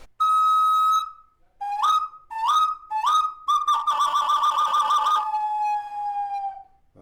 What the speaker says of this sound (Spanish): Este otro es un silbato que viene es una reproducción de la zona de Michoacán, Purépecha.